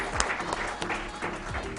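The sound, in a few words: audience applause for the panel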